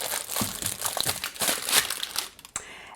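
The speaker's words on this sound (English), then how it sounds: "I'm going to take a piece of parchment paper, put it on top" Parchment paper crinkles and crunches over a jar of habanero fire tonic, a steady run of crisp rustles for about two and a half seconds, then a short sharper crackle as the lid goes on.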